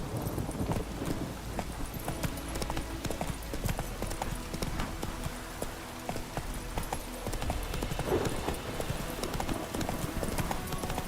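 Galloping hooves of the horse Roach in The Witcher 3: Wild Hunt, a rapid continuous clip-clop rhythm at moderate loudness with a brief whinny, set against outdoor ambience.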